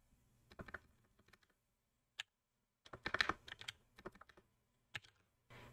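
Terminal commands are typed on a computer keyboard in irregular bursts of quick, close key clicks with short silent pauses between them, and no speech.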